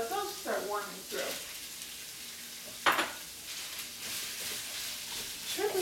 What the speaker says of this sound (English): I'm putting the shrimp towards the bottom of my frying pan here